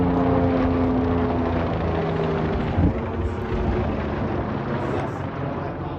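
A police helicopter flies over a neighborhood, its rotor drone loud and continuous with a steady low throb throughout.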